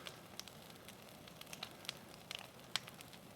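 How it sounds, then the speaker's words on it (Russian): A campfire of old pine logs crackles quietly outdoors, with sparse sharp pops and snaps scattered over a faint, steady background hiss. "Костер мощный получился."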